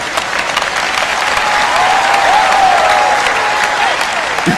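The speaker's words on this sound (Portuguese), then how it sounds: "Agora você aplaudiu?" An audience applauds steadily for several seconds, a dense, sustained wash of clapping at even loudness, with a faint tonal hum running beneath it.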